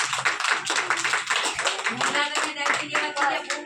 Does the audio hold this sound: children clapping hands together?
yes